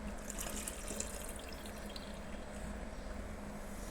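Water pours into peanut chutney, a steady close trickling splash running continuously for a few seconds with no talk.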